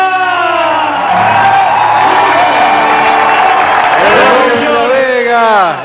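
Audience at a chamamé folk music performance cheering, whooping and applauding loudly for the performers, with a voice speaking and calling out over the crowd.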